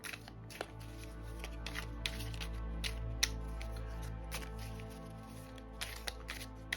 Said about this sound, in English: just shuffle them